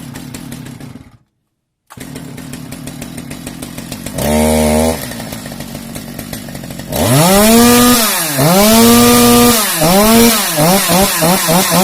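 Stihl chainsaws, including an 064, MS271 and MS200T, being pull-started: starter cord pulls, a brief idle, then loud close engine running with repeated revving rises and falls.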